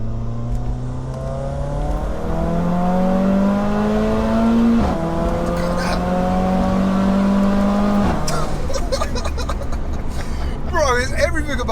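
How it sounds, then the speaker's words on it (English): A 630 bhp big-turbo Mercedes A45 AMG with a screamer pipe revs hard close by, the pitch climbing through several pulls before sharp throttle-off cracks and a raspy, chattering finish, with voices murmuring underneath. "It's got the angriest engine though, the maddest sound when you come off the throttle"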